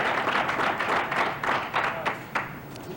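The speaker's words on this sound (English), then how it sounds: "Appreciative crowd." Appreciative crowd applauding at a duckpin bowling alley after a strike-and-spare mark, a steady patter of clapping from a moderate distance with a few sharper claps and some faint voices mixed in.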